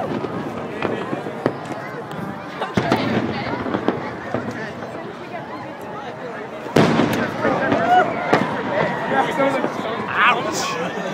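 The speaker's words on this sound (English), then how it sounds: "There's like fireworks for 10 minutes." Fireworks pop and crackle continuously with sharp bangs standing out, one especially loud burst midway, while a crowd chatters and people talk nearby.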